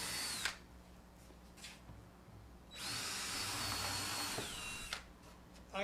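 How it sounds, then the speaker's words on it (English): A power drill whirs in two bursts while drilling a pilot hole for the foot of a printer stand, a short one and then a longer steady run, close by, with brief quiet pauses around it. "So I'm drilling a pilot hole."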